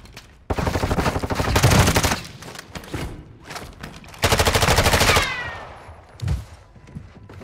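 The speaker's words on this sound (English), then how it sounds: "Taking effective fire." Video game gunfire crackles in two long, dense automatic bursts, loud and close, with scattered single shots and thumps in the gaps between them.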